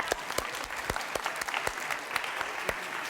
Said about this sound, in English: it is tradition that you should clap when you see an equation